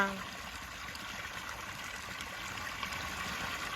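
Water flows steadily out of a pump pipe driven by an engine beside a wheat field, a constant, moderately loud rushing trickle with no talk.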